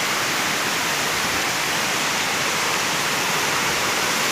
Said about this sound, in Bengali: কি সুন্দর ঝর্ণা